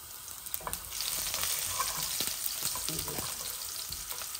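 Garlic sizzling steadily in hot oil in a pan, a dense, continuous frying hiss with occasional crackles and light stirring scrapes, close and fairly loud throughout.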